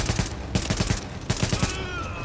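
Enemy gunfire in The Division video game comes as rapid bursts of automatic shots, several quick volleys in succession, loud and close with a continuous noisy game background.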